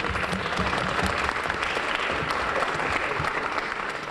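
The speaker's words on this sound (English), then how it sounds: "Let's give a round of applause." An assembly audience at an opening assembly claps in sustained, dense applause that holds steady at full strength for a few seconds.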